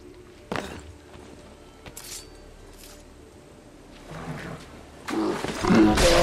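A bear roars in Assassin's Creed III. Several short growls and thuds break up a quiet opening, and a louder, sustained roar swells toward the end.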